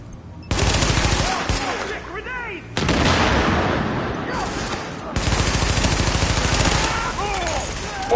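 Sustained automatic gunfire and explosive bursts from a console shooter game, with dense rapid fire filling most of the clip, broken by brief lulls and a loud blast, while a player's voice shouts over the action.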